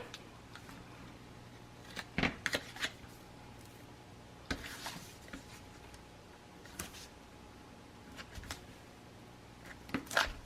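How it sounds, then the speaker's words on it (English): Tape is pulled and pressed along the edges of paper for a craft cover, giving faint scattered crinkles, taps and short tearing rustles at close range over a quiet background. "I'm going to take my tape and I'm going to go along the edges of the paper"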